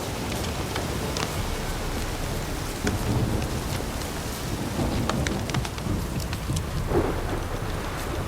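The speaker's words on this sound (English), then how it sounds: "This downpour's a bastard" Heavy downpour in the video game The Witcher 3: steady, dense rain hissing and pattering on surfaces, with low rumbling beneath and no voices.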